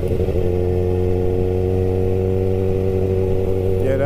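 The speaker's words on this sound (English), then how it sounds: "Yeah, that's why I'm just shifting gears," Kawasaki Ninja 636 motorcycle shifting gears while riding, a loud, steady engine drone with strong harmonic tones that holds its pitch and then shifts slightly near the end.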